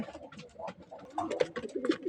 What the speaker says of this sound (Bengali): এইখানে দেখতে পারতেছেন একজোড়া গ্রিজেল কবুতর, আফসান গ্রিজেল